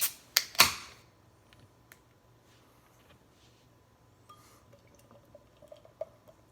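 A can of 6% New England pale ale is cracked open with a couple of sharp snaps up close, followed by a faint, quiet pour and light fizzing in a hushed room.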